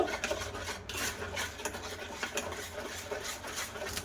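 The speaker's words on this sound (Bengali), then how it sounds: "সাদা তেলটা দিয়ে বেশ ভালো করে আবার একটু মিশিয়ে নেব" A spoon whisks egg, sugar and white oil together in a bowl, giving a steady close scraping and rubbing that carries on without a break, with no talking.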